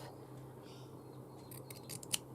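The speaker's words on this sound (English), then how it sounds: "I might just cut it instead of ripping it" Scissors snip through fabric near embroidery during a stitching session, giving a few quiet, close cuts that end in a sharp final snip against a faint hum.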